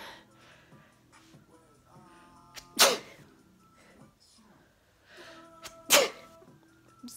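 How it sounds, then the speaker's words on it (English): A soft voice talks quietly, then two sharp, loud sneezes burst out a few seconds apart. "Oh, I'm gonna sneeze, guys."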